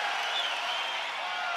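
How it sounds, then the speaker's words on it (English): A crowd at a UFC fight between Israel Adesanya and Anderson Silva keeps up a steady, distant roar of cheering and murmur, even and continuous, with no single voice standing out. "Crowd totally engaged here"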